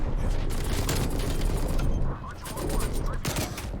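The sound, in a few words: nail gun firing in the Call of Duty Cold War video game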